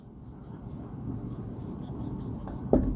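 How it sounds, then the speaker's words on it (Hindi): Chalk or marker writing sentences on a board during a grammar lecture, a steady soft scratching and rubbing that runs throughout, ending with a brief tap near the end. "अब मैं कुछ सेंटेंस ऐसे लिखता हूँ"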